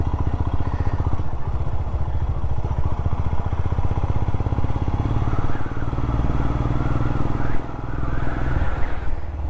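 A Royal Enfield motorcycle, a Himalayan or Scram, rides along twisty roads, its single-cylinder engine thumping steadily and loudly up close, with a brief dip and rising revs near the end.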